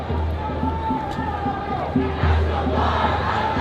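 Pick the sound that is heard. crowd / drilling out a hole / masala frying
crowd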